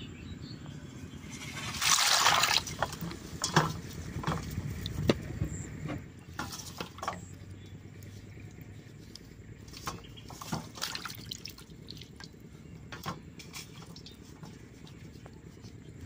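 Wood apples (bel) boil in a pot of water in a village kitchen, a faint ongoing bubbling and trickling with a brief louder splash early on and scattered light clinks.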